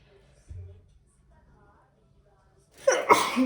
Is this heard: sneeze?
yes